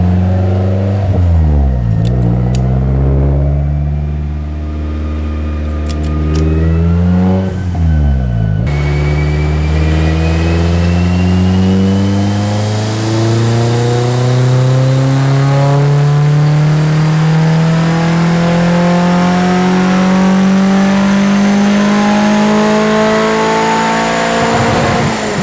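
Car engine revving hard on a dyno for a baseline pull at stock boost, a few quick blips and a brief lull, then one long loud climb with pitch rising steadily for about fifteen seconds.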